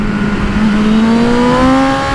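BMW M 1000 R inline-four motorcycle accelerating hard with quickshifter upshifts, a loud close engine note climbing steadily in pitch through the gears without any voice over it.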